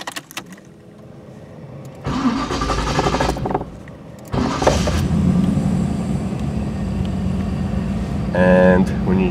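An idling car engine during a Dakota Digital dash install, starting with quiet clicks, then a steady mid-level running hum in two stretches broken by a short drop, with tonal chimes near the end.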